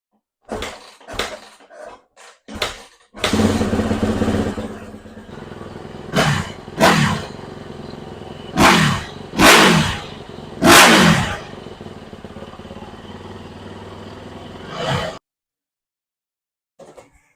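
A Yamaha YZ450F snow bike engine coughs through a few sharp starting attempts, then catches and runs loudly up close, with repeated throttle blips rising and falling over a rough idle before cutting off abruptly.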